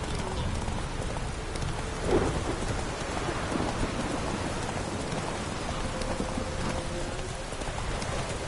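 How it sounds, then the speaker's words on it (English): A video game thunderstorm with steady, dense rainfall hissing throughout, a soft low rumble of thunder swelling briefly, and no voices. "A storm, damn it."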